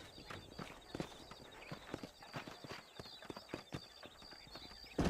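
Horse hooves clip-clop steadily in the Western video game Red Dead Redemption, a rhythmic series of hollow knocks at walking pace over faint ambient background, moderately close.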